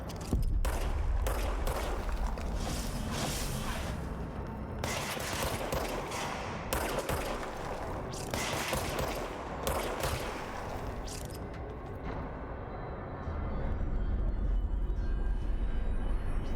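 Gunfire in the video game Control, dense continuous bursts of loud shots and impacts filling the scene with little pause, heavy low rumble beneath, fading slightly toward the end before swelling again.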